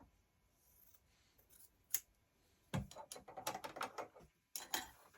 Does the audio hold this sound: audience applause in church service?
no